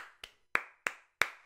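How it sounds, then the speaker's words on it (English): Five sparse, isolated hand claps at a school athletics carnival, spaced unevenly about a third of a second apart, each sharp and fairly close with a short ring-out, alone without voices. "there was the most patronizing clap that spattered across all the houses"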